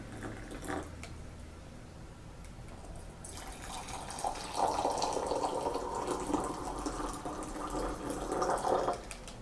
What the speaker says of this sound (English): pour 300 milliliters of hot water into each of your beakers